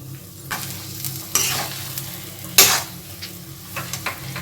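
Potato filling for aloo kochuri being mixed with vinegar in a pan: a soft ongoing sizzle broken by a few distinct scraping and clanking spatula strokes, close up, with no talking.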